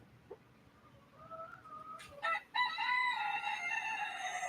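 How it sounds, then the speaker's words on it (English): Hens and a rooster in a coop, with soft clucking building into a loud, sustained crowing call that dominates the second half, close and clear with no talk. "you can listen all night to the screams of wild hen chickens"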